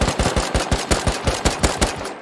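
Rapid automatic gunfire in a video game, a loud close burst of evenly spaced shots with no pauses.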